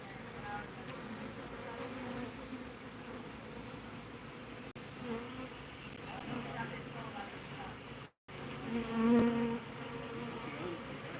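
A swarm of bees being removed from a site buzzes in a close, steady drone, with some talk audible in the background.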